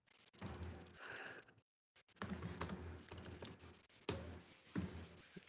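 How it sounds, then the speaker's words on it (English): Typing on a computer keyboard heard through an online meeting call, fast clustered clacking of keys with a brief dropout of silence, then steady rattling keystrokes continuing, close and fairly clear. "Oh, that's you typing, Grace."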